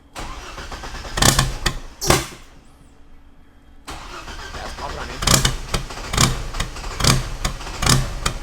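A turbocharged GM 4200 engine cranks with sharp bursts, goes briefly quiet, then catches and runs with a rough, pulsing idle and revs, close and loud.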